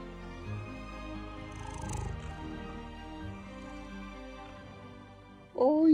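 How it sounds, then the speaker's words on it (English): Low, rumbling purr from a cat held close, continuous and soft, with a brief higher vocal sound breaking in at the end. "Listen to this girl purr."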